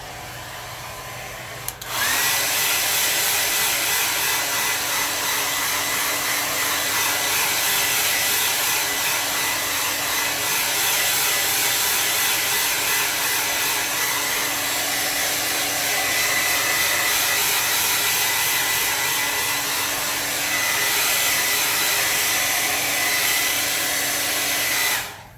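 A hair dryer blows loud and steady at close range for about twenty seconds, drying a watercolor landscape painting, starting abruptly and shutting off at the end.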